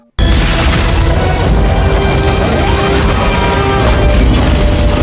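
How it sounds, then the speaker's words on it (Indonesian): Loud, dense barrage of drone gunfire and booming impacts as robots are shot at in an action film, a continuous roar of blasts and crashes with no pauses. "Dia mulai nembakin robot-robot, termasuk robot kocengnya"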